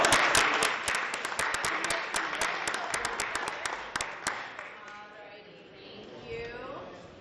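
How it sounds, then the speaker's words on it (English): A crowd at an esports league grand finals event applauds with a burst of sharp, distinct claps that dies away after a few seconds, followed by a voice talking. "Let's give Danny a nice round of applause as well."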